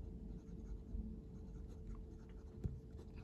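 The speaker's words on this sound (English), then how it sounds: "So here I have the Gravitas" A Gravitas Delrin fountain pen with a medium steel nib scratches softly across paper in continuous close strokes, quiet and steady with a small tap near the end.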